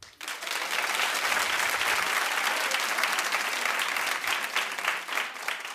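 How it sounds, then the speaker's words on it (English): A live audience at a Bill Cosby speaking event breaks into loud, sustained applause, dense and close, holding steady for several seconds before tapering slightly at the end. "Clap if you have apps on your phone."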